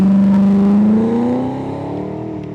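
VH Commodore launching on a no-prep airstrip drag strip, a loud engine note sweeping upward as it accelerates away, then fading as the car pulls into the distance.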